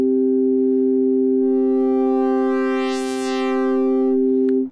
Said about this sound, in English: it's warping my sine wave here into a different wave here